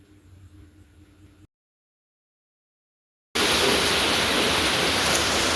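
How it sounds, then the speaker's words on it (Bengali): Heavy rain pouring down at night, a loud, dense, steady hiss that bursts in abruptly after a quiet stretch and a brief gap of silence. "এত জোর বৃষ্টি হচ্ছে সে বলার না।"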